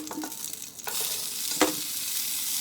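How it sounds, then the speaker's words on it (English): Asparagus sautéing in hot bacon grease in a cast iron skillet gives a steady high sizzle, with a few utensil stirs and a brief scraping clack near the middle, close and alone. "now in my cast iron skillet, I'm going to saute the asparagus"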